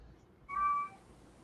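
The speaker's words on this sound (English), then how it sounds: "stupid cat. Can you hear him?" A single short, clear cat meow rises out of a quiet room, lasting under half a second and fairly faint, with nothing else heard around it.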